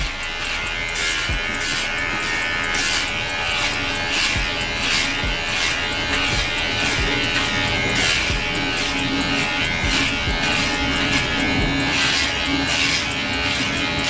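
A cordless professional hair clipper with a number 1 guard buzzes steadily and loudly as it cuts hair, its motor hum running continuously with faint rhythmic pulses as it passes over the head, no talking.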